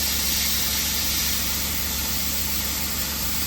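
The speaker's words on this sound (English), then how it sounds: "Just compressor kicking in again." An air compressor for paint spraying runs during model railway track weathering, a loud, steady broadband rumble and hiss of the motor with no pause across the short stretch, and no talking.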